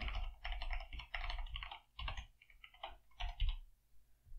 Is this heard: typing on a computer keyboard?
yes